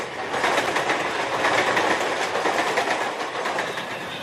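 A suburban train runs along the track in Bombay, a steady close rumble with rhythmic clickety-clack of wheels over rail joints, continuous and loud with no talking.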